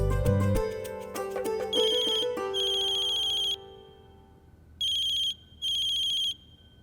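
Telephone ringtone sounding during a call, a bright electronic ring that starts after a short stretch of music, then cuts in and out as repeated bursts with brief gaps of near quiet between them.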